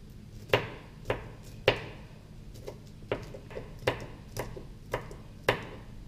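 A knife cuts a banana thinly on a cutting board, making about a dozen sharp, evenly spaced taps. The chopping is close and fairly quiet, with no talking.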